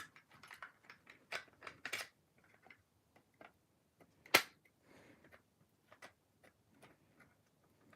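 Small screw being driven into a Tyco Spirit of '76 toy train unit, heard as faint scattered ticks, scrapes and clicks of the driver against plastic and metal, with one sharp louder click midway, no talk.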